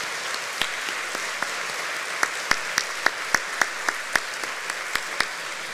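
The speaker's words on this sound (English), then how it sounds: "How about a round of applause for their service?" Audience applause at a chamber of commerce annual meeting, a steady patter of clapping with sharper individual claps standing out, moderately loud and sustained throughout.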